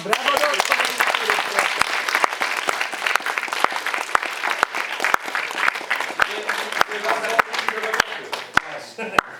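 Volunteers at a church gathering applaud together, a sustained dense clatter of many hands filling the room, with a few sharper claps standing out near the front and voices mixed in beneath the clapping.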